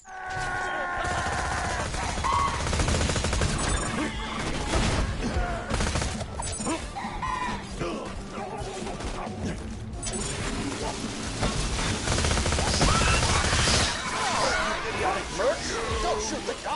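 Borderlands 2 gunfire during a Torgue DLC fight: rapid, clattering bursts of shots and mechanical clanks run almost continuously at close range, loud throughout, with voices in the mix.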